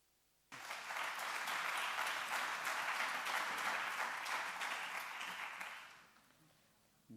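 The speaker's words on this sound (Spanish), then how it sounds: "Un aplauso." At an accounting forum in Bilbao, an audience applauds a speaker as he is introduced. The clapping starts suddenly, holds steady for about five seconds, then tapers off into quiet.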